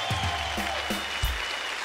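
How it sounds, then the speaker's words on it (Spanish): A short burst of studio audience applause on a television talk show, a brief patter of clapping with a few distinct claps, fairly close and fading quickly. "Un aplauso"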